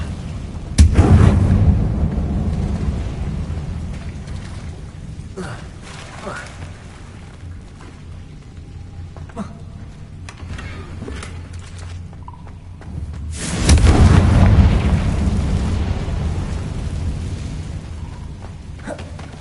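Confringo fire spell explosion in Hogwarts Legacy on PS5, two heavy booming blasts about twelve seconds apart, each with a long rumbling tail; no speech.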